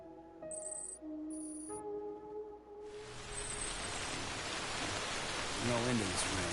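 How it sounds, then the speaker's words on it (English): Steady rain in the video game Death Stranding, a broad hiss that swells in after a few quiet seconds of tonal game chimes and stays loud and continuous to the end. "Damn rain won't quit."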